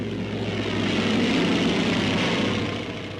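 SB-2C aircraft make a jet-assisted takeoff from a carrier deck in the Pacific, giving a steady, loud roar of engine and rushing noise. The sound swells and holds for a few seconds, then eases slightly at the end, with no voices.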